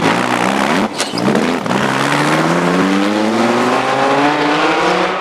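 A powerful racing car at a speed hillclimb accelerates hard up Club Straight on tarmac, its loud engine note rising steadily through the gears with a brief gear-change dip, close and dominant.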